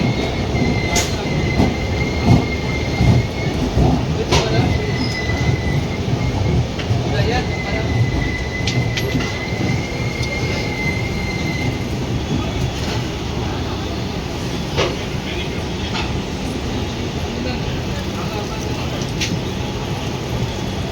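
Running noise of the MAS-BDNK AC Superfast Express 20601 from Chennai to Bodinayakanur, a steady broadband rumble of wheels and carriage with occasional clicks and a faint high squeal, continuous throughout.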